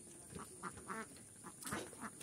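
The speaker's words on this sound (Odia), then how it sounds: "କ୍ୱା କ୍ୱା କ୍ୱା କ୍ୱା କରୁଛନ୍ତି କେତେ ସୁନ୍ଦର ବତକ" Ducks quack in short repeated bursts, roughly five or six calls spaced irregularly, fairly faint against a quiet outdoor background.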